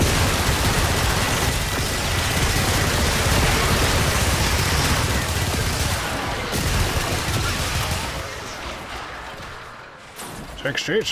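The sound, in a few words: gunfire from shooting enemies in the video game Warframe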